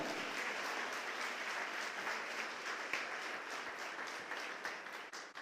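A church congregation applauds during a sermon, with continuous even clapping from many hands that is fairly faint and distant and lasts the whole clip.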